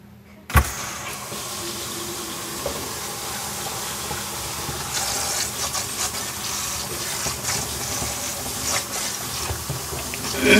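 Water rushing steadily through a hose just after it is turned on, a continuous close hiss and splash lasting about ten seconds, with an abrupt start and slight surges toward the end.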